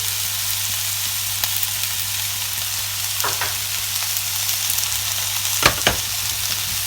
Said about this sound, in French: Pendant que mes oignons rissolent